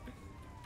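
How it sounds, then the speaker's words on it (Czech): An ambulance siren in the video game GTA 5, wailing steadily and loudly close behind a fleeing car over road and engine noise for a short moment. "Pomoc, mě honí sanitka!"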